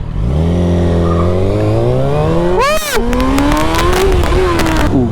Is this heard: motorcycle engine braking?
yes